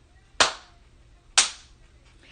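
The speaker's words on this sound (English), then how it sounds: "Let me get me a clap going so I can kind of get a tune." Hand claps keep a slow, steady beat, three sharp, loud claps spaced about a second apart with quiet between them.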